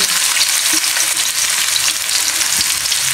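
Finely chopped onion fries in hot oil in a steady, dense sizzle that fills the whole stretch, close and loud, with faint stirring bumps underneath and no talking.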